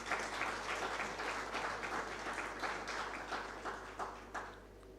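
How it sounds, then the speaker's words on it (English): Audience at an insurance brokers' conference awards session applauds a sponsor, steady crowd clapping that holds for several seconds then gradually tapers, moderately distant, over a low electrical hum in the room. "Can I request we clap for Britam?"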